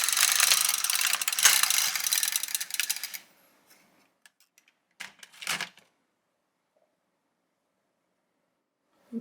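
An LK150 knitting machine carriage slides back across a row of needles in a dense, rattling mechanical burst lasting about three seconds, followed by a few short clicks and knocks, then near silence.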